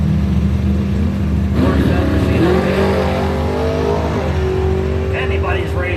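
At a drag strip event, a Camaro and an 84 Mustang race cars roar, engines revving and rising in pitch as they launch, loud and continuous beneath an announcer's commentary.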